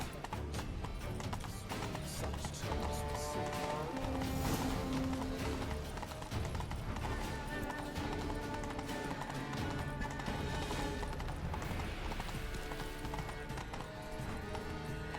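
Horse hooves clip-clop steadily as a rider travels in The Witcher 3, a continuous rhythmic trot beneath game music and ambience throughout.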